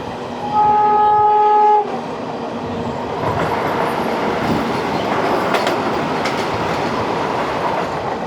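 The Ernakulam–KSR Bengaluru Vande Bharat Express passes near Mulamkunnathukavu. A loud, close horn blast of just over a second is followed by the sustained rushing roar and rumble of the train going by.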